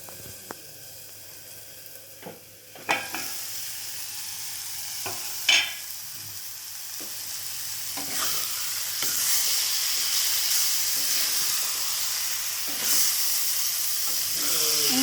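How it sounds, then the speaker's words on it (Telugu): Curry frying in a pan, a continuous hissing sizzle that swells toward the end, punctuated by occasional sharp knocks and scrapes of a spoon, close and with no voices. "ఇంకా కొంచెం పొడిలాడుతూ వేగనిచ్చుకోవాలండి, అప్పుడే బాగుంటుంది."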